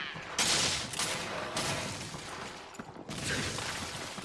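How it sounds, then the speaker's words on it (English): Pellets exploding in Monster Hunter 3 Ultimate, heard as dense, loud volleys of crackling blasts. The rapid bursts overlap almost without pause, with short dips near the middle. "not all of the pellets exploded out there"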